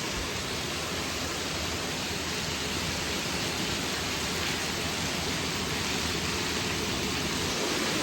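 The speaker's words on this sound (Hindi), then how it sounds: "लो भाई कितनी जोर से आ गया पानी।" Heavy rain pours down outside a home, a dense, steady roar of water that stays loud and unbroken throughout with no voices.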